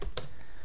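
A few quick keystrokes on a computer keyboard, close and quiet, with one sharper click near the start and nothing else around them.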